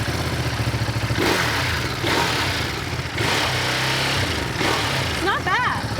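A 2023 Ducati Monster SP motorcycle engine runs close and loud with a rough, throbbing idle and a few blips of revving, while people talk over it.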